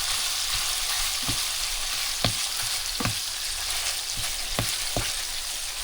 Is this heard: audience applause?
no